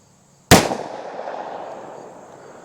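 A single sharp gunshot from a longer-barrel 608 fired into gel, a loud close crack followed by a decaying ring of echo lasting about two seconds.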